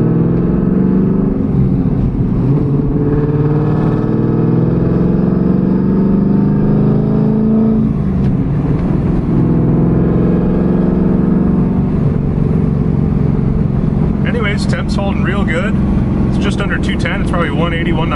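A Pontiac Trans Am with a freshly installed water pump drives along, its engine a steady low drone with shifting road and wind noise under intermittent talk.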